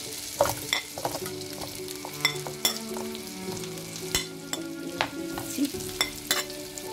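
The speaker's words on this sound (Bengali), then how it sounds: "বাটারটা একটু দিই। এর জন্য আমি পেঁয়াজ দিয়ে দিচ্ছি।" Chopped onions sizzling in melted butter in a pan, a steady crackling fry close up, broken by repeated sharp clacks and scrapes of a spoon stirring, with no voices.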